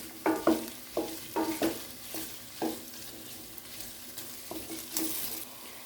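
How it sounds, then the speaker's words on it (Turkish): Potatoes sautéing in a hot pan, stirred in repeated scraping bursts over a steady soft sizzle. The sound is close and heard alone, with no talking. "Üç dakika kadar patatesimizi de bu şekilde kavuralım."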